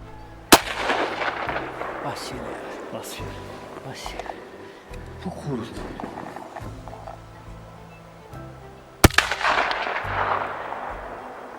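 Two sharp, loud rifle gunshots ring out several seconds apart, fired while zeroing the rifle, each followed by a brief echo, over a steady outdoor background with faint voices.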